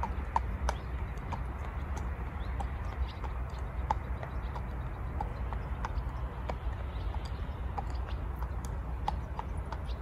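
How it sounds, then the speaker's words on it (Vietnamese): A large horse walks as its owner leads it home across a rural field, its hooves clip-clopping in a steady, moderate rhythm over constant outdoor background noise, with no talking. "Đây có chú ngựa được chủ dẫn về đó nè"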